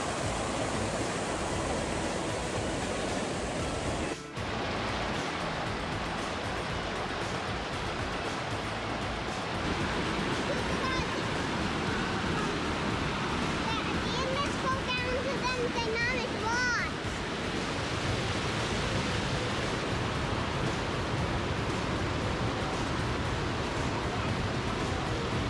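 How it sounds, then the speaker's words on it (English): A waterfall on a river in Barron Canyon, Algonquin Park, roars as a loud, steady broadband rush throughout, with a voice briefly audible over it. "I came to this waterfall."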